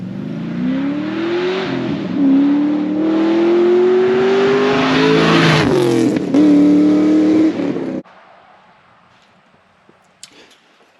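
An LS-swapped third-generation Camaro with a 4-inch dual exhaust and X-pipe rumbles loudly for about eight seconds, rising and falling through several throttle blips and revs before cutting off to near silence with a few faint clicks.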